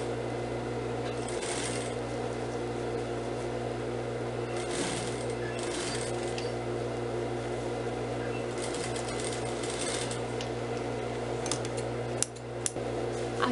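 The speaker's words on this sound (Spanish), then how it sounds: "vamos a continuar nuestro pespunte." A sewing machine stitches a dress seam in bursts of fast whirring, with a steady hum and motor buzz between runs, heard close and moderately quiet.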